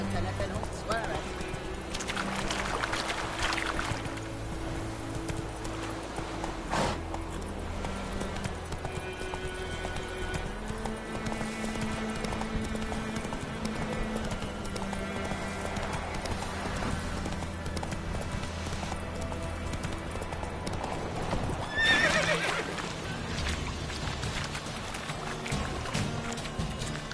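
Horse hooves in The Witcher 3: Wild Hunt clip-clop at a steady, close gallop across the whole stretch, mixed with game music and ambience, with a voice speaking briefly.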